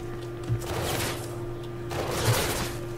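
Gunfire in the video game Mirror's Edge Catalyst: two short bursts of rapid shots, about a second apart, over a steady electronic game hum.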